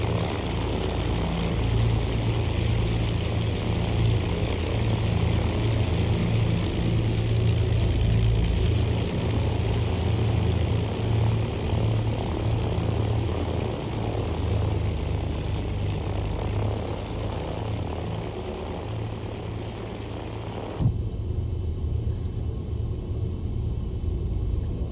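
A propeller airplane engine in the X-Plane flight simulator drones with a steady low rumble and whine through the whole stretch, dipping briefly near the end, with no talk.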